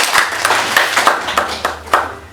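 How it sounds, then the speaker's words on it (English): An audience claps for P7 candidates in a close, lively burst of overlapping handclaps that carries on evenly for a couple of seconds. "May we clap for the candidates."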